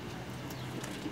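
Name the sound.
racing pigeon cooing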